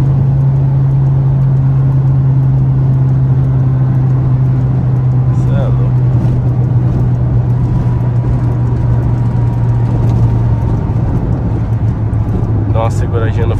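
A Fiat Uno 1.4 drives along a highway, giving a steady, loud engine and road drone that holds throughout, with brief faint higher sounds near the end.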